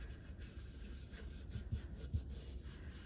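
Soft, quiet rubbing strokes of a cloth polishing antique silver, close and low in level, with a few slightly firmer scrubs near the end.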